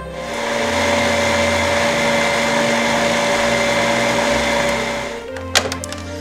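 An electric mixer beats butter for Greek kourabiedes, a loud, steady motor whir running for about five seconds before stopping, followed by a few clinks and knocks, no talk.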